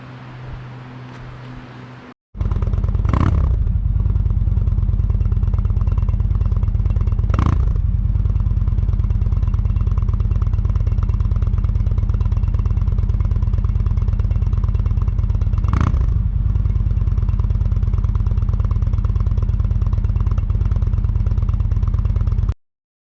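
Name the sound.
motorcycle engine running, pulling a camper trailer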